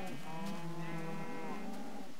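Cattle lowing in the Minecraft video game, a drawn-out moo with steady tonal layers, fairly faint, on its own without talk.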